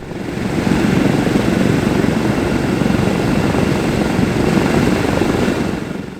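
A Douglas DC-6 propeller engine on a ground run, a loud steady droning roar and whir close by that holds evenly, then softens slightly toward the end as it winds down.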